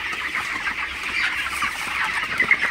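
A crowd of 25-day-old broiler chickens in a broiler house clucks and murmurs continuously at close range, a dense, steady chatter of many birds.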